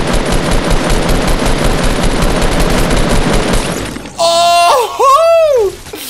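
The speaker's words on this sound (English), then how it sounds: "Where is this guy shooting me from?" Rapid automatic gunfire rattles loud and dense for about four seconds in the Fortnite Battle Royale game, then cuts out, followed by brief swooping electronic effect sounds.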